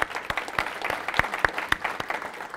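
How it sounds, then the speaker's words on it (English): Scattered clapping from a small audience at a Python tech talk, distinct individual claps at an uneven rhythm, fairly close and moderately loud. "If we can give a round of applause to Peter, it'd be great."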